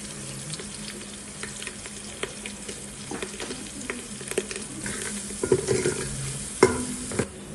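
Curry leaves and turmeric fry in a pan with a soft, steady sizzle, punctuated by scattered spatula scrapes and knocks that grow more frequent toward the end.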